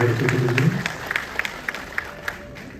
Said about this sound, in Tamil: டிஎம்எஸ் பால்ராஜ் சார் அவர்களுக்கு ஒரு பெரிய கைத்தட்டலை எடுக்கிறார்